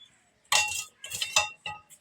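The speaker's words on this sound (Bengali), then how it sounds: "কড়াই বসিয়ে দিলাম।" A metal wok (kadai) is set down on a kitchen stove with a few clanking, rattling knocks in quick succession, close and clear against near silence.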